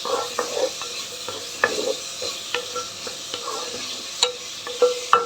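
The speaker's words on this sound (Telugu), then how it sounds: "ఇవి కూడా బాగా వేగనిద్దాం." Food sizzles gently in a pan with ginger paste added, while a utensil taps and scrapes the pan in irregular, close clinks.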